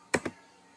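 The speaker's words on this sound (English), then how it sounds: "here we can first clear it and then we can type" Two quick, faint key clicks on a computer keyboard, close together and alone.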